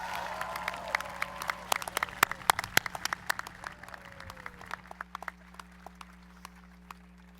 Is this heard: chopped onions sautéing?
no